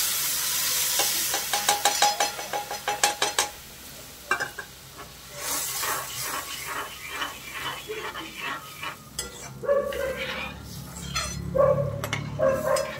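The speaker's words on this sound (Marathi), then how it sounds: "आता पाहू शकता तुम्ही ही पूर्ण फोडणी छान अशी परतलेली आहे आणि लगेच त्याच्यामध्ये ही शिजलेली डाळ टाकून द्यायची" Cooked dal is tipped into a hot, sizzling fried tempering for a Maharashtrian phodnicha varan. A few sharp clatters and stirring scrapes come first, then a steady close crackling sizzle that swells and settles over several seconds.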